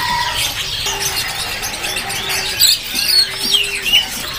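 A cigun bird calls at a busy bird shop in Jepara, its faint, high chirps and whistles breaking through a constant wash of background chatter and noise.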